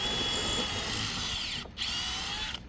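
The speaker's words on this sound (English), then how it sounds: "And we're gonna come in here and we're going to drill the other hole." A cordless drill whirs steadily at close range as it drills into the ground for a yard sign, pausing briefly once before spinning up again, then stopping near the end.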